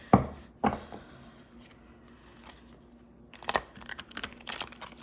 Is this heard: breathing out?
no